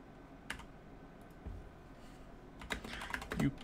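Quiet computer keyboard typing with scattered single keystrokes, then a denser burst of clicks toward the end, heard up close in a calm room.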